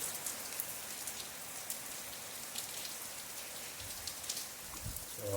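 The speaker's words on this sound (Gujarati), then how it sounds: "વરસાદ ઘણો બધો આવી ગયો અને કાલનો પણ હતો અને સવાર સવારમાં પણ ચાલુ થઈ ગયો છે" Heavy rain pours down steadily, a dense, even hiss of drops hitting surfaces with no voices.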